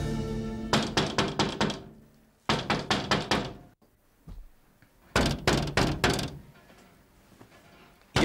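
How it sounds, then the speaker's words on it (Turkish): A door takes repeated heavy knocking, with fast bursts of thudding bangs separated by short pauses, loud and close. "Ya dur kapıyı kıracaksın geliyorum dur."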